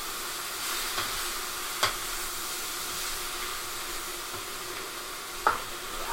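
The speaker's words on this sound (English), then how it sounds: "I'm adding yellow and orange. And then let's stir it again." Red, yellow and orange bell peppers sizzle steadily in a hot pan, a constant close frying hiss with a couple of sharp utensil knocks as they are stirred.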